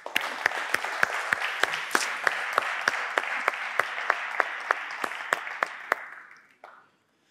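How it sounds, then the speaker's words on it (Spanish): Enthusiastic audience applause at a talk, steady and full with sharp individual claps standing out, continuing for several seconds before tapering off and stopping. "este aplauso para todos vosotros"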